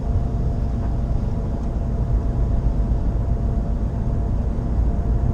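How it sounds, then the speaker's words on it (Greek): Steady loud low drone inside a Nissan Qashqai J11 while driving, a speed-related humming fault heard as continuous road and drivetrain rumble with no speech. "το βουητό εξακολουθεί να ακούγεται τόσο έντονο."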